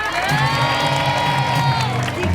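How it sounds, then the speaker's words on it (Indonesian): Studio audience cheers and applauds loudly for a contestant on a television show, a dense crowd roar with whoops held steady throughout. "Tepuk tangan dong buat Jessica"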